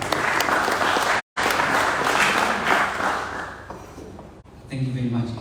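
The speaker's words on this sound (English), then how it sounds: "but let's give him a round of applause." A crowd at a ratepayers meeting held in a church breaks into a round of applause, loud sustained clapping that briefly cuts out, fades, and then gives way to someone speaking.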